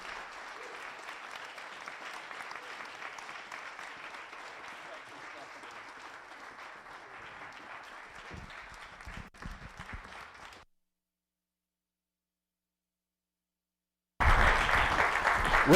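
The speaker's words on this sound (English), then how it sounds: "let's give a big round of applause" Audience applause fills a library stage event, steady and dense for about ten seconds before a silent gap, then bursts back loudly at the end.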